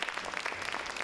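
An audience applauds a children's magic performance at a creativity competition, dense steady clapping from many hands in a short burst.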